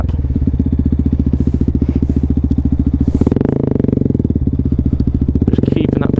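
A 125cc motorcycle engine during wheelie practice, loud and close, a rapid pulsing thrum that rises in pitch as the throttle is blipped around the midpoint and again near the end.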